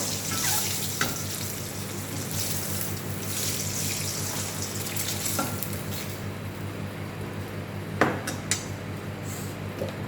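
Eggs fry in a pan for egg curry, giving a steady close sizzle with a few sharp clinks of a utensil against the pan; no one speaks.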